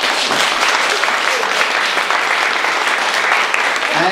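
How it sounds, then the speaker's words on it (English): A crowd claps steadily for a few seconds at a company annual general meeting, dense and even applause, fairly close and loud. "round of applause to Dean."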